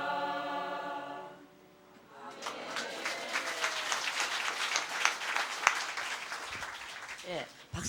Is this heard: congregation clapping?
yes